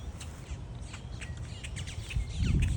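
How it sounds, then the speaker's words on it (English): Birds at a backyard feeder give short high chirps and tweets in quick irregular bursts, close and fairly clear over low rumbling background noise. "These birds, they keep stealing the food that's not for them."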